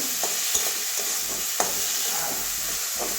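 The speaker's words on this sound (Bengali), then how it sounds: "এবারে ধুয়ে রাখা মাশরুমটা দিয়ে দিচ্ছি" Washed mushrooms are stir-fried in a pan with a constant close sizzle and hiss, broken by several sharp scrapes and taps from the stirring spoon, and no talking.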